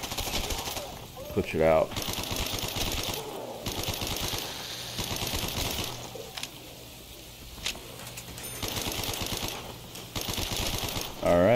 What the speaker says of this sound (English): You go through ammo like crazy with this gun.